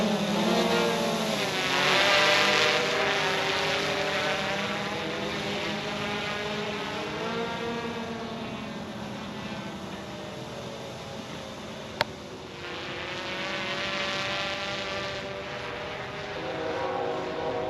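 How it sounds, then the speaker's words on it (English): A small camera drone flies overhead outdoors, a steady whining buzz of propellers that rises and falls in pitch as it moves nearer and farther, fairly loud and continuous with no talk. "See how this drone flies."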